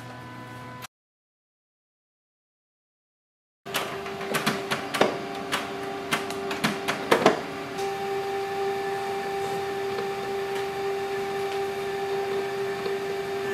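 An HP Color LaserJet Pro MFP M283fdw printer powering on: after a brief silence, a run of clicks and mechanical ticks gives way to a steady whirring hum that continues to the end.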